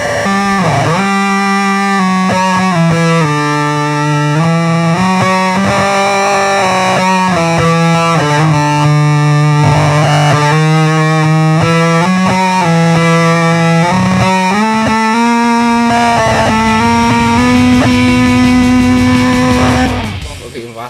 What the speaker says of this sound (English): For the Fuzz Factory, it's just the standard radio fuzz, and then I'll give you a quick demo of that.